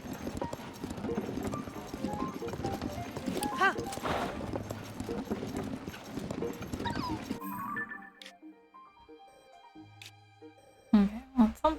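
Horse hooves clip-clop at a steady trot in The Legend of Zelda: Tears of the Kingdom, a quick rhythmic clatter that breaks off midway, followed by sparse game sounds and a brief whinny.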